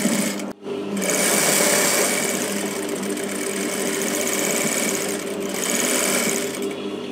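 A sewing machine stitches along the neckline edge of a dress with a loud, steady mechanical whirr that pauses briefly near the start and then runs continuously, close up.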